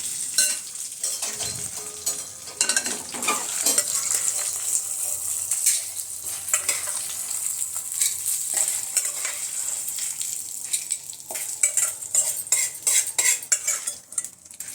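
Spices and curry leaves fry in ghee in a pan with a bright crackling sizzle, while a metal spoon scrapes and clinks against the pan in quick, irregular strokes.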